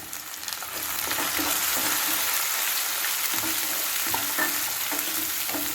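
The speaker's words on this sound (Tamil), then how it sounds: "ஒரு மீடியம் சைஸ் வெங்காயத்தை கட் பண்ணி வச்சது நல்லா வதங்கிச்சு. தக்காளி பழம் போட்டுக்கலாம்." Onion and tomato sautéing in a pan for a fish curry, a dense, even sizzle with occasional stirring scrapes, close and with no voices.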